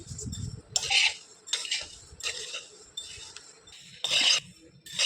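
A utensil scrapes and knocks against a pan as poha flakes are stirred while dry-roasting, repeated close clinks and scrapes in an uneven rhythm.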